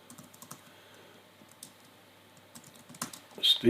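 Fingers type on a computer keyboard with light, rapid clicks in an irregular rhythm, close and fairly quiet, ending in a few louder keystrokes.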